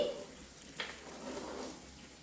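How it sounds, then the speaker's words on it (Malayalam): A quiet, steady sizzle of fish frying in a pan, with a brief clink partway through and faint kitchen noise. "കുറച്ച് മീൻ ദാ വറുക്കാനായിട്ട് വെച്ചിട്ടുണ്ടായിരുന്നു അത് വറുക്കാൻ വെച്ചിട്ടുണ്ട്"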